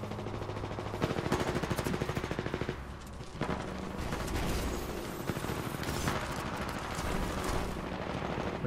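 Rapid gunfire from the video game Titanfall 2 rattles in bursts of automatic fire with scattered single shots, fairly quiet overall and continuous across the clip.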